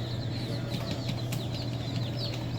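Chickens cluck and rustle close by inside a shipping box over a steady low hum, with scattered chirpy calls and light shuffling throughout.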